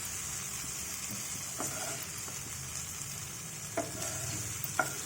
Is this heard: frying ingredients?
yes